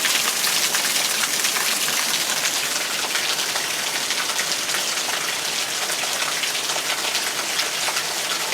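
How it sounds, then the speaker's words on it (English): Steady rain falls, a dense hiss of drops on surfaces that stays even and unbroken throughout. "But we need this rain."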